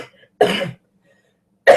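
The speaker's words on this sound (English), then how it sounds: "Sexy coughs." Two short, sharp coughs, close and loud: one burst near the start and another at the very end, with silence between them.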